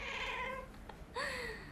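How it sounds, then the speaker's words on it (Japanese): A Siamese cat gives two short, clear meows close by, the second one louder and rising, with no other sounds around them. "よく泣くよしんちゃん"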